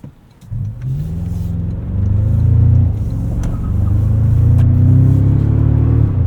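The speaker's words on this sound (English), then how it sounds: "The power here with this iForce Max is just fantastic." 2024 Toyota Tacoma TRD Pro with the iForce Max engine and 8-speed automatic, accelerating on the street, a deep steady engine drone rising in pitch and loudness, heard from inside the cabin.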